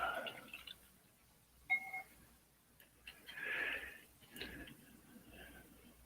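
Paintbrush swished and rinsed in a water jar while fixing a fresh painting, with soft close splashes, drips and clinks in short bursts amid quiet room noise.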